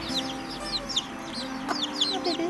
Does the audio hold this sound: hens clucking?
yes